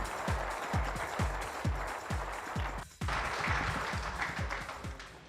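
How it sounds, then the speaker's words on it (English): Audience applause at a high school coaches' awards show for Buster Mayberry, a steady wash of clapping with rhythmic low thumps underneath, briefly dropping out near the middle before resuming at full strength. "How about a big round of applause for Buster as he's going to come up and give us some direction."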